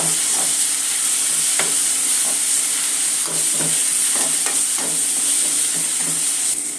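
A small tomato fries in a pan for a ridge gourd kootu, giving a steady close, fairly loud sizzle and hiss with regular soft scrapes of stirring spread through it, and no one talking.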